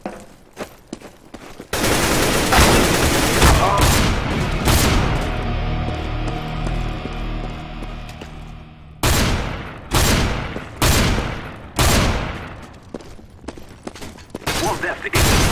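Counter-Strike: Global Offensive gunfire in a match against bots: a sustained loud automatic burst for several seconds, then a series of separate sharp single shots spaced about a second apart.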